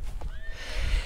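A horse whinnies out on the open moorland of Dartmoor, a high wavering call rising and falling over a second, heard at moderate distance against steady wind and low outdoor rumble.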